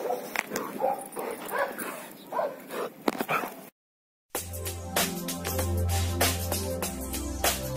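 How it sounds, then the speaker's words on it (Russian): A dog out on a walk during quarantine lets out high yips, whimpers and short barks in an uneven string, followed by a brief silent gap and then louder, busier sound with the dog still yapping. "Максимум, что я могу сделать на карантине, это выгулять собаку."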